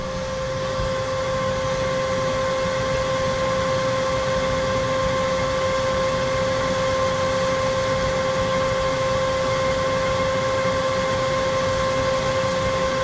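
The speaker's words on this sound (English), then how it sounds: "Shop vac just ain't strong enough because I think it collapsed the hose on me" A shop vac roars at a steady, loud pitch with a constant whine as it pulls water through its hose while draining a Nitro Z6 boat, with no pauses throughout.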